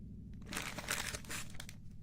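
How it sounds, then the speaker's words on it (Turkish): Someone tears open a plastic bag of LEGO Creator Volkswagen parts nearby, making quiet, busy crinkling and crackling of thin plastic for a couple of seconds. "Ve üçüncü paketi açıyoruz"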